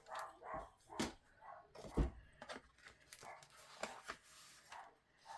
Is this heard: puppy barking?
yes